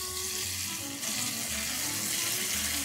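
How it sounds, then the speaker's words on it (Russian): Food browning on all sides in a hot pan gives a steady, close sizzling hiss that runs without a break, with no talking. "Со всех сторон обжариваем."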